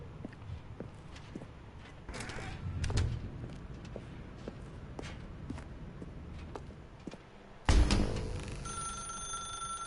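A telephone rings in The Stanley Parable video game, with repeated bell-like strikes and soft footsteps and thuds over a low room hum, then a louder ring burst near the end.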